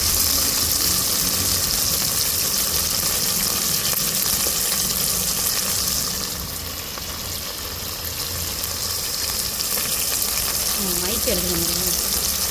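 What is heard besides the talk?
onions frying in a pan for veg biryani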